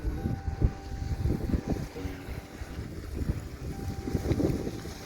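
Wind blowing steadily at a beach, buffeting the microphone in continuous low rumbling gusts that rise and fall throughout, fairly loud and alone without talk.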